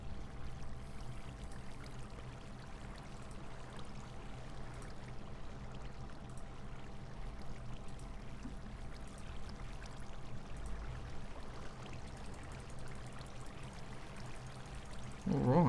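Water pours steadily as buckets are filled in Minecraft, a continuous soft stream and trickle with no one talking.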